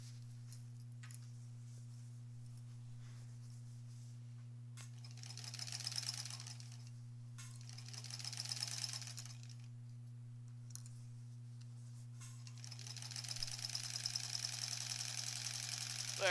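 A sewing machine stitches the back of a granny squares quilt in three rapid mechanical bursts separated by pauses. A steady low hum runs underneath, and a few soft clicks fall in the gaps.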